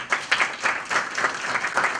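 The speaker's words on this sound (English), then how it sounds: "Let's give him a round of applause." Audience applause at a gala dinner, a brief burst of many people clapping with a slightly uneven pulse, close and fairly loud.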